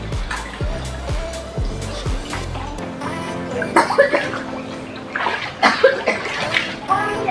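Strong rushing water pours down a large water slide at the Mur-sea Resort, a steady splashing gush with bursts of louder spray, and faint voices mingle with it in the background.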